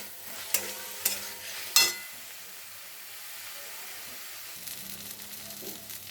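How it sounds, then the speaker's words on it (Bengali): Fenugreek greens frying in a pan are stirred, a few sharp utensil clinks and scrapes at first, then a soft, even sizzle and hiss continuing quietly. "এখন কিছুক্ষণ নেড়ে চেড়ে নেব"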